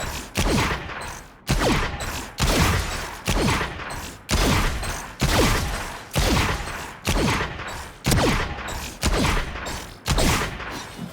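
Sharp gunfire from the Vandal rifle in a Valorant aim practice session repeats in a steady cadence, each loud report followed by a short decay, about a dozen shots with no talking.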